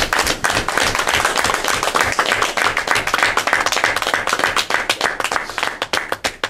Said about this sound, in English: Even my clap is too fucking loud.